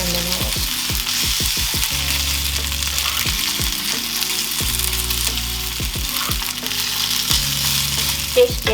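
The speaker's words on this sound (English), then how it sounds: "Gently stir fry, and you can add some sauce in a minute." Vegan yaki udon noodles stir-frying in a hot pan, a steady loud sizzle broken by repeated scraping and tossing strokes of the utensil, close up with no talking.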